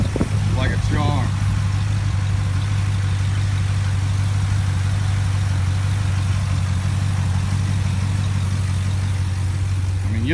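A 2014 Chevrolet Camaro Z/28 idles with a steady, deep low rumble throughout, close and loud, with brief talk near the start.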